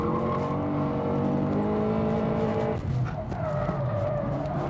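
A drift car pulls hard from low revs, its engine note rising steadily in pitch as it accelerates, with a rough mechanical edge and a brief dip midway before climbing again; loud and close with no talking.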